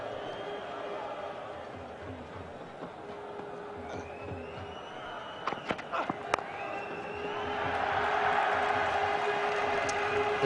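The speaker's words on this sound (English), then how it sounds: "The applause goes up because" Spectators at the England v India one-day international cricket match in London in 2004 applaud a batsman's fifty, a soft crowd murmur with a few sharp clicks that swells into louder, sustained applause over the final seconds.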